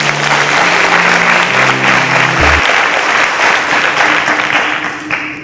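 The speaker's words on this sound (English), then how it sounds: "A round of applause for him." Studio audience applause for an eliminated game show contestant, loud and sustained dense clapping that runs alone for several seconds before tapering slightly at the end.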